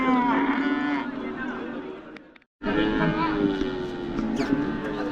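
Cattle moo loudly and repeatedly at a livestock market in M. Chettipatti, Salem, with a brief silent gap mid-clip and market chatter faintly beneath.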